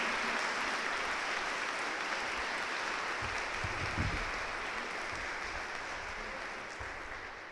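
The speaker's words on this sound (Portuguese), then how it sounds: "E vamos aplaudir ao Senhor por isso." A church congregation applauds during a worship service, a dense, steady wash of clapping that holds throughout and eases slightly toward the end, with a few low thumps underneath.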